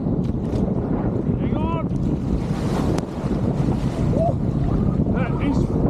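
Wind gusts across open water around a boat in Wingan Inlet, a steady rushing roar with lapping waves and microphone buffeting, while a person speaks briefly and a few bird calls sound over the top.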